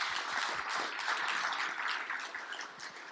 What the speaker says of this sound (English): Can we give them a round of applause for all the hard work they've done?